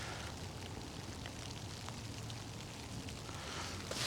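Steady rain falling on wet surfaces outdoors, a dense even hiss with scattered droplet taps, constant and moderately faint throughout.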